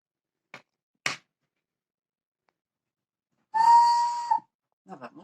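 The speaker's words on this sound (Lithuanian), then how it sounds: "Na va, mūsų švilpukas švilpia." A homemade clay whistle gives one clear, steady tone lasting just under a second, preceded by a couple of sharp clicks and followed by faint rustling.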